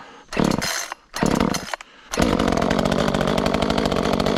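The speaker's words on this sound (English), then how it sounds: "hit the throttle and it goes to the run position. In theory, it should start." Echo CS-355T chainsaw starting: a couple of short pull-start bursts, then the two-stroke engine catches and runs loud and steady at close range, with no talking.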